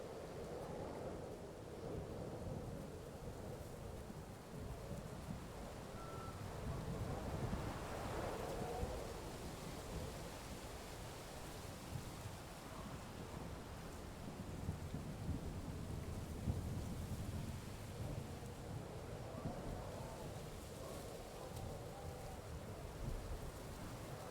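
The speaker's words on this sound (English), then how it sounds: "this storm is obnoxiously loud" Heavy thunderstorm in the video game Kingdom Come: Deliverance II, with steady loud rain and wind and deep rolling thunder rumbling throughout at close range, with no voices.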